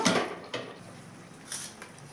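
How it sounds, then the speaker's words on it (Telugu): Metal lid set onto a cooking pot: a sharp clatter at the start, a second light knock, then a softer clink and rattle as it settles, all fairly close in a quiet kitchen. "మూత పెడుతున్నాను"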